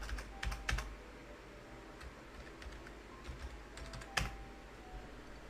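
Scattered, faint keystrokes on a computer keyboard tap out a search entry in irregular clusters over a quiet room hum, with a sharper key press near the end and no one speaking.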